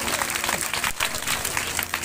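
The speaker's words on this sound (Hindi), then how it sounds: "ताली भी बजाओगे।" An audience claps during a religious Bhagavata storytelling gathering, a loud burst of dense applause filling the whole moment, with a slight dip near the middle.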